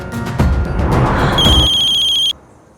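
A mobile phone rings loudly and close, with a warbling electronic ringtone that shifts into a bright sustained melodic tone before cutting off abruptly, with no talk.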